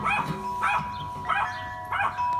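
A dog barks four times in a steady rhythm, close by, each bark sharp with a ringing tone, short quiet gaps between them.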